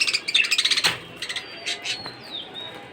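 Pet birds being fed tree leaves burst into a quick series of sharp, close chirps, then scattered thinner calls and squeaks follow.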